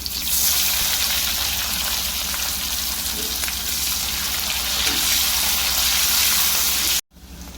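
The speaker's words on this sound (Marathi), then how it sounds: "तेल गरम झाले जिरे मोहरी लसूण कांदा" Cumin, mustard seeds, garlic and onion fry in hot oil with a loud, dense, continuous sizzle close by, which cuts out abruptly near the end.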